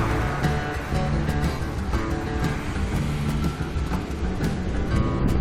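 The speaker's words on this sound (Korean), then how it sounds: "와, 파도가 엄청나요." Ocean waves roll in at Nha Trang's Long Beach with a continuous, loud rushing wash and crashing surf, steady throughout with no voices.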